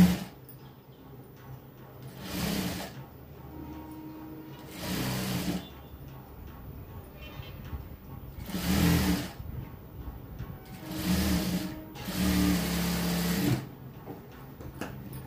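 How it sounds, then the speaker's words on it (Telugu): A sewing machine stitches a thick cotton dress in several separate bursts of rapid whirring, each a few seconds long with short pauses between, close and fairly loud, with no speech. "ఇలాగ నీట్గా పెట్టేసుకొని లాగకుండా కుట్టుకోండి."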